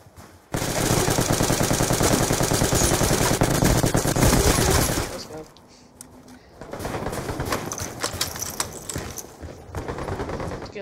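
Full-auto gunfire in Call of Duty Black Ops 2, a long loud unbroken burst of rapid shots lasting several seconds, then a brief lull followed by further quicker bursts of automatic fire amid game noise.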